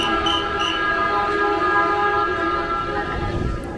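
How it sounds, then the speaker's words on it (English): A train pulls into a crowded Shinjuku Station platform with a loud sustained tonal horn or whistle over rumbling wheels and platform hubbub, steady and near throughout. "the train is coming"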